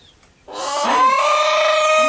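A rooster in a spring backyard garden coop crows once, close and loud, the call starting after a brief quiet moment and drawing out into a long sustained note.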